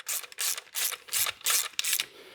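A ratchet wrench clicks in six quick bursts, snugging a bracket bolt into a truck's cylinder head during a Sanden mini AC/alternator/power steering install, each burst of sharp metallic pawl ticks close and clear with no talk.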